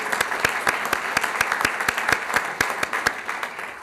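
An audience at an awards event applauds steadily, a loud dense wash of hand clapping that keeps going the whole time with faint voices mixed in.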